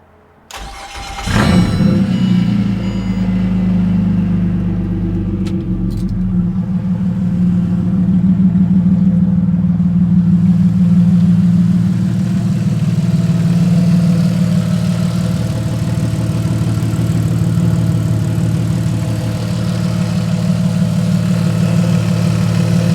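A car engine cranks briefly and catches after a clutch repair, then settles into a steady, loud, low rumbling idle that runs on close by with a slight rise midway.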